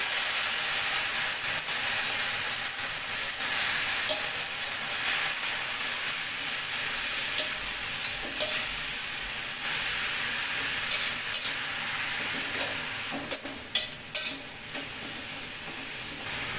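Blanched spinach stir-fried in a pan, a long continuous hiss of sizzling with scattered scrapes and taps from stirring, steady throughout and without talk.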